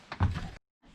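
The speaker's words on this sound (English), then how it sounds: "Bus door swinging out." An old bus door on a DIY bus conversion swings open with a short creaking scrape and a low thunk, then silence, followed by faint movement afterward.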